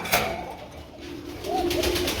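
A pigeon gives a low, throaty coo close by, a soft rolling call that rises briefly near the end.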